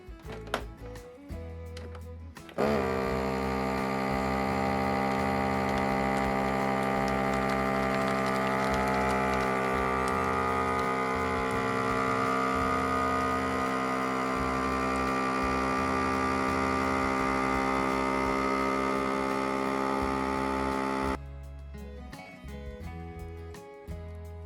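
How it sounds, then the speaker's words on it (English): A vacuum sealer pulls air from bags of frozen zucchini with a steady electric motor hum lasting around eighteen seconds, bracketed by quieter handling clicks and taps before and after. "And now let's get them all vacuum sealed."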